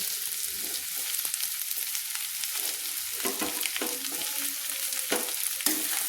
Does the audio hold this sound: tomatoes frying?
yes